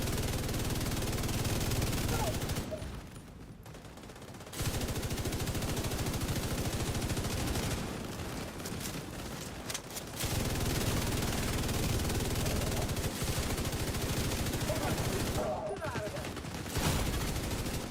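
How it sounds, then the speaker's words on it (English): Sustained automatic gunfire from another player in a video game, loud and dense almost throughout, with a couple of short lulls between long bursts. "That was just fire from whoever was up there kind of shooting."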